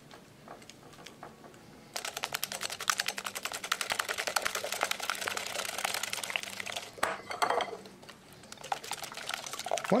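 Egg, spices and cornstarch being whisked into a marinade, a quick, steady clicking and tapping of utensil against bowl that starts after a quiet moment and runs close and continuous, with a brief pause near the end.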